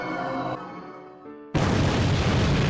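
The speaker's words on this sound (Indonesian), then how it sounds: "Kayaknya kali ini lebih parah deh ledakannya." An explosion in the anime Viva Fantasy: a tonal musical passage fades, then a sudden loud broadband blast cuts in and holds as a sustained roaring rumble.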